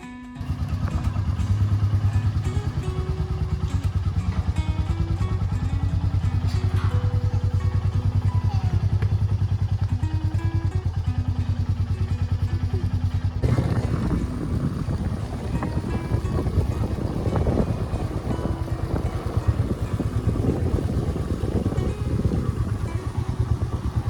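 A motorcycle rides along a road, its engine droning steadily under heavy wind buffeting, with the sound turning rougher and louder partway through.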